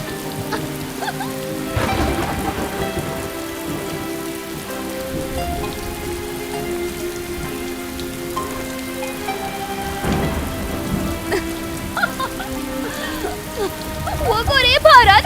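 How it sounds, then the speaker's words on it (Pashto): Heavy rain pours down in a thunderstorm, a dense steady patter with rumbles of thunder, under dramatic background music. "وګورئ باران وریږي."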